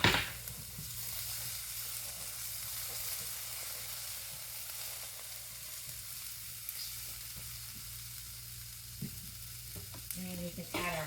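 Jalapenos, onions and tomato frying in a pan for a green chili breakfast burrito, giving a steady close sizzle with faint stirring clicks and scrapes throughout, no talking.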